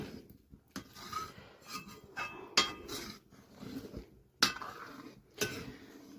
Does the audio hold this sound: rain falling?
no